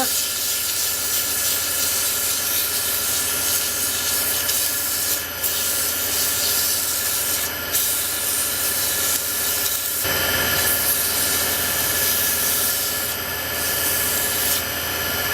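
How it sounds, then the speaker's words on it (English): Steady, continuous sanding of a pen blank with 100 grit sandpaper: a dense, even rubbing hiss that runs close and loud throughout, with a slight shift in texture partway through and no talking. "Gonna step up to 100 grit sandpaper."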